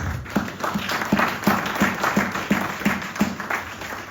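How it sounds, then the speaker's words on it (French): A church congregation at a Sunday service claps in a steady, even rhythm, with dense, continuous applause from a full room. "Est-ce que tu vas acclamer pour le Seigneur Jésus-Christ?"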